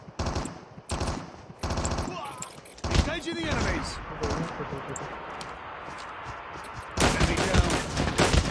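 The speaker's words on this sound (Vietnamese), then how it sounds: "Nghe tiếng bắn dữ quá trời luôn." Dense bursts of automatic gunfire in Call of Duty, rattling in rapid strings with brief gaps and then returning loud and sustained, while a voice speaks over the shooting.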